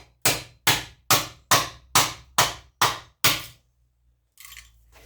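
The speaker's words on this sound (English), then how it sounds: "I'm gonna hit it with a hammer first." Eight sharp, evenly spaced hammer blows strike an aluminium plate from scrap electrical gear, each ringing briefly and loud up close, followed after a pause by a faint shuffle.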